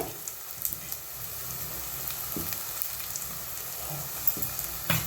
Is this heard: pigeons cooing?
no